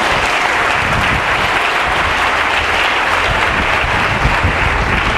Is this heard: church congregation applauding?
yes